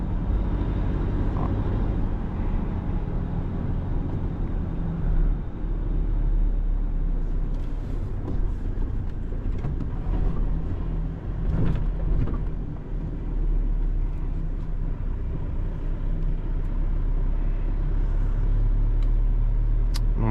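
Toyota Hilux CS GR Sport turbo diesel accelerating, a steady low engine rumble with road noise throughout, fairly constant and unbroken, no talk.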